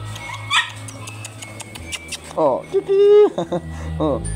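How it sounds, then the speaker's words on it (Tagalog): Several dogs bark and yip in short bursts around a household yard, mixed with people talking nearby and some background music. "Ang mga aso nila dito."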